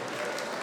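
Audience applause at a 10 km race award ceremony: a brief, steady burst of many hands clapping from a crowd.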